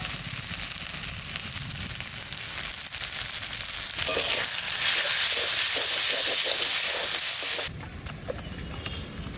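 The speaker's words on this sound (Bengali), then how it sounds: "মশলা কষানো হয়ে গেছে" Spice masala of cumin, coriander and turmeric sizzles and fries steadily in a pan, a continuous crackling hiss with occasional stirring scrapes that grows louder midway, then drops abruptly near the end.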